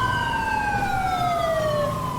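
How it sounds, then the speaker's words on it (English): Police siren from the LSPDFR police mod for a driving game: a loud, continuous electronic wail with a bright tone that sweeps steadily downward in pitch, heard alone and up close throughout. "I gotta get that siren. That's so loud."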